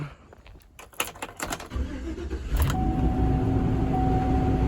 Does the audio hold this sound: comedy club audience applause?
no